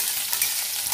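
Broken urad dal bori with black cumin frying in hot oil, a steady close hiss and sizzle throughout with no talk.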